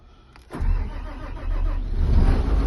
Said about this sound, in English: Start the machine.